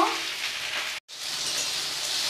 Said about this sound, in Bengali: ভেন্ডি লাল করে ভেজে নেব।